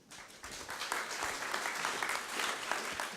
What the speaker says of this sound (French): Mesdames et messieurs, je vous demande d'applaudir Michel Fouché